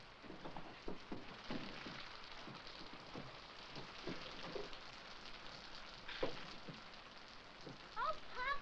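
Rain falling steadily on a roof or the ground outside a rural home, a soft constant patter with scattered sharper drops and faint background voices.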